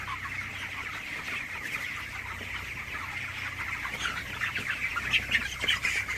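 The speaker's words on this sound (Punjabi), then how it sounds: "ਦੇਖੋ ਕਿਵੇਂ ਸਾਡੇ ਮੁਰਗੇ ਖਾਂਦੇ ਆ" A flock of 22-day-old chickens cluck and squawk busily while eating feed from feeders: a dense, continuous chatter of many birds close by that grows a little louder toward the end, with no voices.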